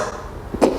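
A single short cough bursts out near the end, close and fairly loud, after a low rumbling background.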